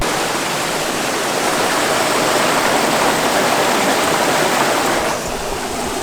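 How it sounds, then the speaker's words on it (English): A creek at Big Sur flows down toward the ocean with a steady, full rush of broadband water noise. It is close and continuous, with no voices over it. "This creek is flowing straight into the ocean"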